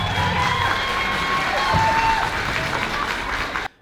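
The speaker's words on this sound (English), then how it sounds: "So let's give a big round of applause for them" Applause and cheering from an audience at a maker showcase, steady dense clapping with whoops and raised voices layered over it, cutting off abruptly at the end.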